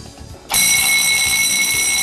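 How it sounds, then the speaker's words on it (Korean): A smoke detector, set off by smoke test spray, starts abruptly into a loud, steady high-pitched electronic beeping tone that continues unbroken, close and alone. "연기 스프레이를 연기 감지기에 분사하여 작동 유무를 확인합니다"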